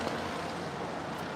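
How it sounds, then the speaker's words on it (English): Traffic on Imperial Highway near LAX in Los Angeles, a steady broadband rush of passing cars with some wind-like roar, continuous and fairly close, no voices. "It's the sound of the loud cars going on down Imperial Highway."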